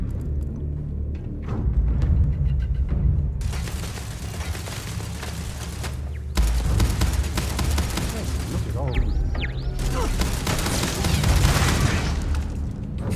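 Gunfire crackles in bursts within the video game Starfield, sharp shots and booming impacts mixed with rumbling game ambience while a voice talks intermittently.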